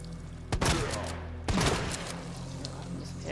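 Two loud booming gunshots in the video game Resident Evil 2 Remake, about a second apart. Each has a sharp crack and a low rumbling tail over steady game ambience.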